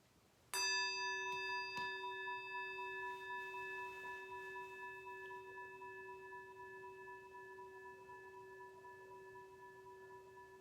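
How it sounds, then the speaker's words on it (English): A meditation bell is struck once and rings with a clear, pure sustained tone that slowly fades over many seconds in a quiet room, no other sounds around it. "Following the sound of the bell as it moves into the distance."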